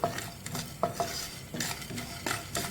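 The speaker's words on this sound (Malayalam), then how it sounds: "മസാല ഇവിടെ നന്നായിട്ട് വറുത്ത് വന്നിട്ടുണ്ട്" Chili-powder masala dry-roasting in a pan for Kannur-style chicken dum biryani, with steady scraping and stirring strokes, a few sharp clinks of a spoon against the pan, and a low sizzle underneath.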